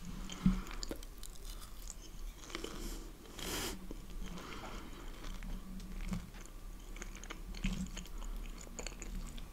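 Close, crunchy chewing and biting of apple strudel, steady soft mouth sounds with occasional crisp crunches, no talking.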